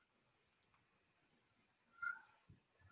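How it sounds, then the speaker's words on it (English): Computer mouse clicks from someone browsing memes at a desk: a quick pair of sharp clicks early on, then another cluster a moment later, faint and close over quiet room tone. "I hate that you can hear me clicking."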